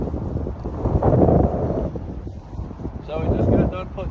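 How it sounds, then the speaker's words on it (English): Gusting wind buffets the microphone outdoors beside a 1989 International S1900 truck with a DT466 engine, in heavy, rumbling surges that swell and fade. "It's windy."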